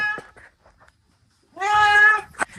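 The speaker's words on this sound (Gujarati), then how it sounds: "ભાઈ ગરમ થઈ ગયો ભાઈ અમારો બિલાડો" A single drawn-out meow from a tomcat in heat, close and clear, after a few faint short rustles and a brief quiet pause.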